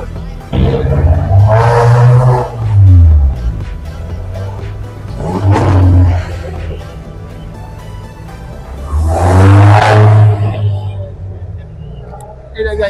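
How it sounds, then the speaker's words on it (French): A Vaillante Grand Défi race car at the Remparts circuit roars past in loud engine surges with rising and falling pitch, alternating with quieter stretches while an announcer speaks over it. "Voici arrivée la première Vaillante Grand Défi qui va tourner dans quelques instants pour la course de circuit des remparts."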